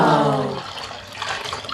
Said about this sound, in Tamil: கரைச்சி வச்சுருந்த வாட்டர்மெலனை ஊற்றி மிக்ஸ் பண்ண போகிறோம்